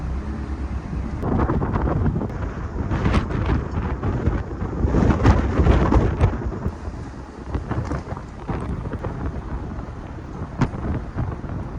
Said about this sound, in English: Oh my god, it's extremely windy.